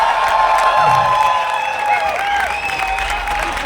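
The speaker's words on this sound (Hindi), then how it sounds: "अली फजल के लिए जोरदार तालियां एवरीवन" Crowd applause for actor Ali Fazal at the Jashn-e-Rekhta Urdu literature festival, broad clapping and some cheering under a sustained tonal music or feedback line, with murmured voices in the background.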